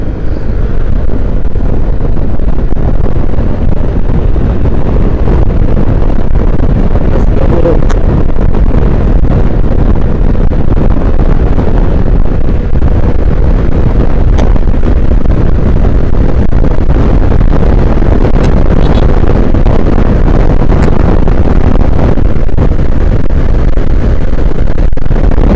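Yamaha XMAX 250 scooter held at full throttle during a top-speed run, a steady loud engine roar buried in heavy wind buffeting across the whole stretch, with no voices.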